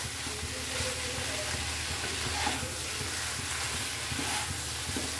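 Cashew and poppy seed paste sizzles in a pan for a shrimp dish while being stirred, a continuous frying hiss with rhythmic scraping strokes close by.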